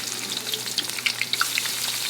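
Chopped onion frying in hot oil in a kadai for a chicken bhuna, a loud, close, continuous sizzle with crackling pops throughout.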